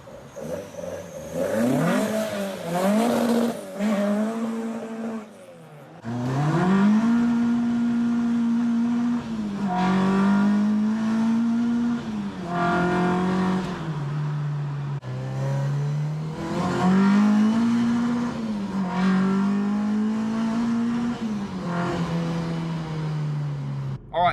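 A Ford car is warmed up and revved repeatedly up close, its engine rising and falling in long, smooth sweeps with brief idle dips between pulls, and no talking over it.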